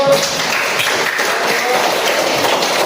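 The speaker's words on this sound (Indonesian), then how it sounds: "kita beri tepuk tangan terlebih dahulu" Junior high students clap together in a classroom, a dense and steady burst of applause filling the room for a few seconds with no one speaking over it.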